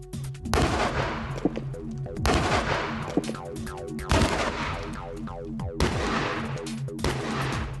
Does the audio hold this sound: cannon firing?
yes